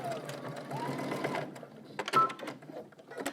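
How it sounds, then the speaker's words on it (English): A sewing machine back stitches a strap onto a sewing project in short, close bursts, running steadily, pausing, then giving a few quicker stitches. "Make sure and back stitch."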